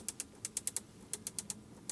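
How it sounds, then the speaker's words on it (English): Crisp, quiet clicks from the air-conditioning control knobs in a 2022 Bentley Bentayga S, with metal knurling around them. About a dozen quick clicks come in uneven bursts, close to the mic, with no talk over them. "Clicking sound, listen to that."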